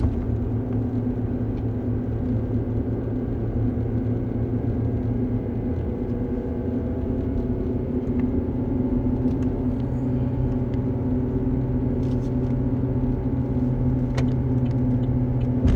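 A car travelling along a road, heard as a continuous low engine and tyre rumble that holds steady throughout, fairly close, with no one speaking.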